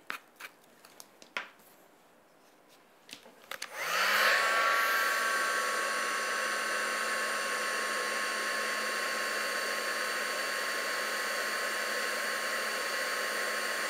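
A heat gun switches on after a few faint handling taps and then blows with a steady, loud whooshing roar while it melts embossing powder on a black card.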